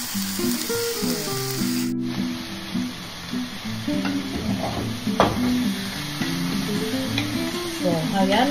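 Chicken wings cook in a pan for a tomato-based dish with sinigang mix, a steady sizzle punctuated by scraping and clinking stirs, partly covered by background music with a melodic line.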